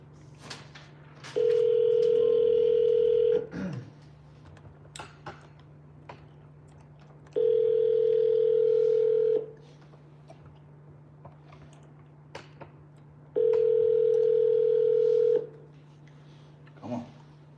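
Repeated calling tone from an outgoing phone call: three steady, loud tone bursts of about two seconds each, evenly spaced with quiet gaps and a low constant hum beneath, no talking.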